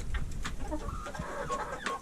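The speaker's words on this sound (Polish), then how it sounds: "i to jest właśnie ta piękna kurka" A hen clucks repeatedly at close range, short throaty calls in an uneven rhythm with farmyard rustling underneath.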